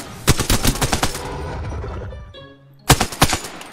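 Minigun fire in Apex Legends: rapid bursts of close, loud automatic shots, a brief pause with a whirring spin-down, then another burst of shots.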